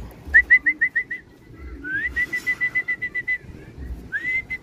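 Bird calls ring out near a racing pigeon loft: a quick series of short whistled notes, then a longer run of repeated whistles, fairly faint over low background rumble.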